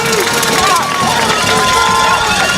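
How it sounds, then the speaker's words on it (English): A Wildcat high school football crowd in Texas roars from the stands, a loud, dense wash of cheering and babble with whistles and shouts rising through it. "This Wildcat crowd, they're on their feet."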